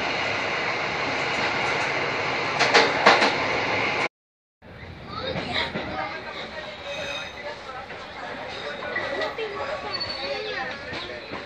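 KA Maharani passenger train running on rails from Semarang Poncol, a steady loud rumble with rattling wheel and carriage noise, a brief dropout midway, then continued rolling clatter with faint voices.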